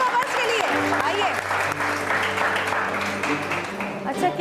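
Studio audience applause on a television entertainment show, a dense, steady roar of many hands clapping for several seconds, with a low musical hum underneath.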